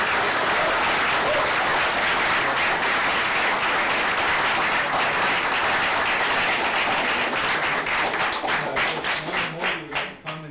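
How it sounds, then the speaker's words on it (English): A city council chamber audience applauds students for several seconds with loud, dense clapping that thins out and fades near the end. "Let's give them a big round of applause."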